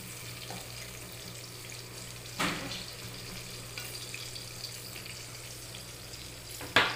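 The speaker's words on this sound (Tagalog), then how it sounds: "Pritong talong guys, gibabad ko muna sa suka, magic sarap, bawang." Eggplant soaked in vinegar and garlic sizzles in a frying pan, a steady low crackle with a couple of sharper pops and spatters, heard alone without talk.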